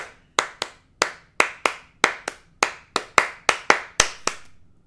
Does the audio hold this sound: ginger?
no